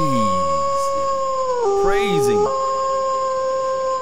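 A loud wolf howl sound effect plays during a Cowboys-Seahawks sports talk show: sustained tonal howls that shift in pitch, with layered voices joining partway through, close and dominant.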